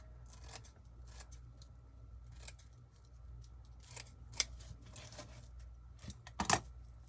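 Scissors snipping ribbon for a holiday wreath, a series of short crisp cuts spaced irregularly across several seconds, close up and fairly quiet against a low steady hum.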